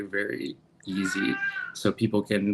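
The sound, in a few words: cat meowing in the background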